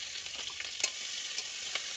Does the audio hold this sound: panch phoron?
yes